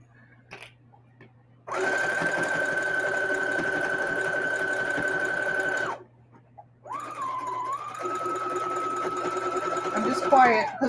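A sewing machine stitches through old denim jeans in two long, steady runs separated by a short pause, with a loud, even motor whir close by.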